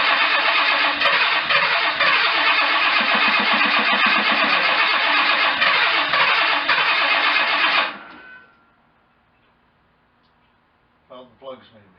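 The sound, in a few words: 1987 Jaguar engine first start in 4 years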